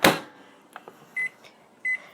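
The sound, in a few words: microwave oven running, heating a green Sour Patch Kid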